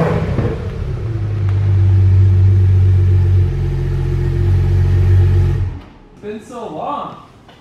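A Porsche GT3 RS engine starts and rumbles steadily nearby, idling and moving off, then cuts out; brief voices follow at the end.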